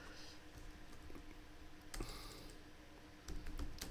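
Quiet clicking of a computer keyboard as someone types a short string, soft keystrokes in small irregular clusters over faint room noise.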